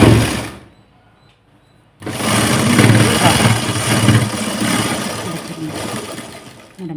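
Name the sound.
sewing machine stitching a blouse seam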